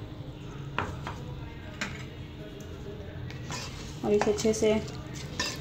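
Potatoes and peas added to a pan are stirred and fried, giving soft scraping and clinking of a spoon against the pan, with someone talking over the cooking.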